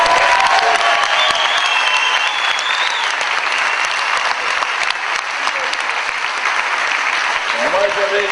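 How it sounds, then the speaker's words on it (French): Theater audience at a comedy show in Grenoble applauding the technical team, a dense sustained wash of clapping with some voices mixed in, steady and loud throughout. "là vous pouvez applaudir l'équipe technique"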